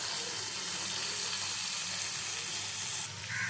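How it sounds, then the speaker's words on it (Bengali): Summer vegetables seasoned with salt and turmeric being stirred as they fry in a pan, a steady close sizzle and hiss with soft stirring, no talking, dipping briefly near the end. "লবণ আর হলুদ দিয়ে ভালো করে এবার নেড়ে চেড়ে নেব সবজিগুলো সব"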